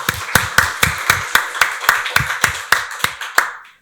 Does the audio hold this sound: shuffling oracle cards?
no